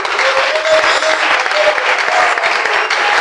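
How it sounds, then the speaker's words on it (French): Church congregation applauding, a loud, continuous wash of clapping from a large crowd at close range, with faint cheering voices mixed in. "Est-ce que quelqu'un peut acclamer pour Jésus?"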